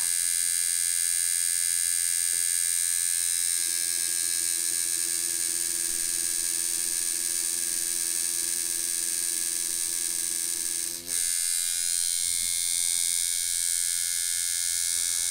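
A Pope Irons T3X tattoo machine runs at 5 volts with a steady, close electric buzz and hum that holds evenly throughout, briefly dipping near the end before resuming.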